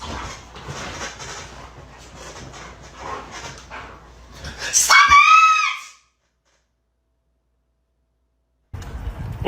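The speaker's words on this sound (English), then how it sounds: "This guy wanted to see what would happen if he screamed while his dogs were playing." Playing dogs bark and scuffle, then a man's loud scream rises to a close, piercing peak before abrupt silence; faint activity resumes at the very end.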